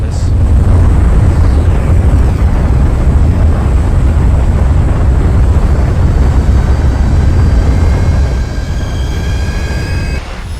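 Loud, steady roar of an airplane in flight with strong wind rushing past outside the fuselage, a continuous low rumble holding throughout before easing slightly at the end.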